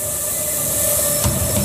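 A train rolls along rails with a loud, steady rumble and a droning tonal hum, and a short metallic clank or squeal rises near the end, with no talking.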